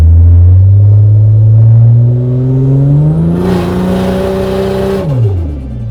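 Barra-powered Holden with a ZF 6-speed automatic, held against a transbrake while revved: a loud, close engine drone rising steadily in pitch, holding high with added whine, then dropping sharply as the throttle comes off.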